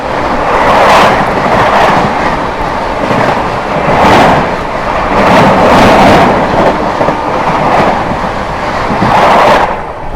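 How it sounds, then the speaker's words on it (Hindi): The Sikkim Mahananda Express thunders past at close range on a parallel track, a loud sustained roar with repeated clickety-clack bursts from wheels crossing rail joints, swelling and easing over about ten seconds with no voices. "अभी जो है अपने से क्रॉस हुई थी सिक्किम महानंदा एक्सप्रेस"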